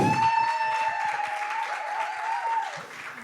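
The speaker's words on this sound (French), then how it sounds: "Est-ce qu'on peut applaudir Jonathan, s'il vous plaît?" Sunday church congregation applauds a worship musician, scattered claps pattering over a steady, held musical tone that lingers and bends slightly before fading toward the end.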